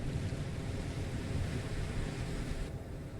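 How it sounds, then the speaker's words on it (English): Coastal ocean water ambience in Space Engineers: a loud, steady wash of surf and rushing water that fills the whole stretch, its hiss dulling slightly near the end. "the coast, the water background sounds are stupid loud"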